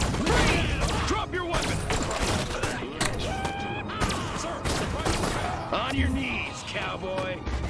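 Soldiers fire grenades and guns in the video game Destroy All Humans, with rapid bursts of shots and thudding blasts filling the mix while game voices and effects sound over them.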